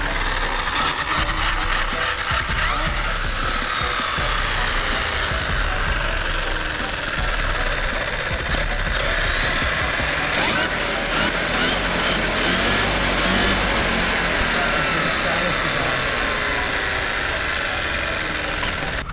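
A ZD Racing MX-07 radio-controlled car driving outdoors, its loud electric motor whining and rising and falling as it accelerates, with rough rumbling from the terrain throughout.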